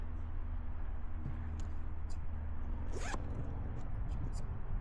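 A short zipper pull on a leather motorcycle saddlebag rasps once near the middle, close by, over a steady low engine-like hum and faint background noise.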